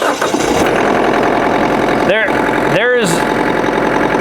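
A Kubota LX3520 tractor's diesel engine turns over and catches, then settles into a steady, smooth idle close by, with a voice talking over it.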